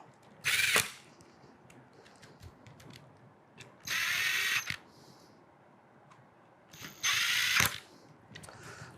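A power driver whirs in three short bursts, each about a second long, tightening the lock screws while a dormakaba Saffire lock is installed. Each burst is loud and close, with quiet gaps between them.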